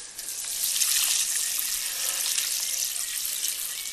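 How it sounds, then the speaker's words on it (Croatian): Water pours out steadily in a continuous rushing splash at close range, holding fairly even loudness for the whole stretch, beside a lake in Bosnia and Herzegovina. "Sklon si gore da prospijem vodu."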